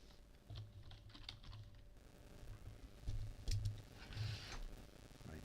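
Typing on a computer keyboard, a quick run of close, crisp key clicks in uneven bursts with a few louder taps.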